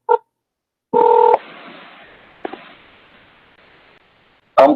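Touch-tone keypad dialing while a call is placed: a short tone blip, then a steady loud dual tone for about half a second, a faint hissy line, and another burst of tones at the end.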